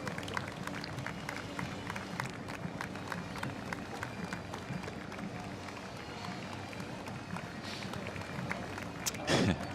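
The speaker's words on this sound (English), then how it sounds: "enjoying the applause" A crowd lining the Anzac Day march in Melbourne claps for marching veterans, a faint scattered patter mixed with shuffling footsteps and distant crowd murmur.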